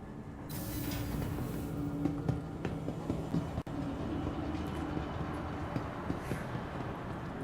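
A train in Star Citizen rumbles steadily as it rolls into a station, with a continuous low mechanical drone and a sharp click partway through.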